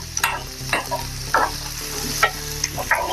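Carrots and chopped capsicum stirred in a pan make a steady sizzle broken by regular spatula scrapes, about six strokes in three seconds, close and clear with no voices.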